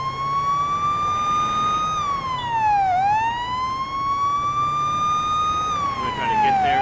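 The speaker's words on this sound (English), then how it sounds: "Let's go ahead and turn on the emergency lights and the sirens." Police car siren from the video game Police Simulator: Patrol Officers, a loud, steady electronic wail that rises and falls in slow sweeps with faint road and engine noise beneath.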